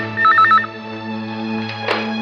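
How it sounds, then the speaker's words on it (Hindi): A telephone rings in a dark horror drama scene: a short electronic trilling ring burst near the start, then a steady tonal hum and a soft knock-like sound toward the end, with no speech. "एक मिनट, फोन आया"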